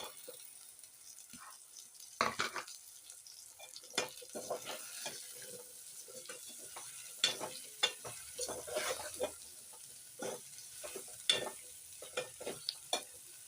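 Sliced okra fries in a pan with ginger and garlic, a steady soft sizzle broken by repeated scraping stirs and clinks of a spoon against the pan, close up with no talk.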